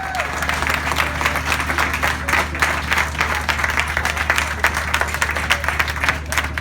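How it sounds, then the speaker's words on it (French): An audience at an ice rink event in a supermarket's winter festival applauds steadily over a constant low hum, a dense patter of clapping that holds level throughout. "Alors je vous demande de l'applaudir."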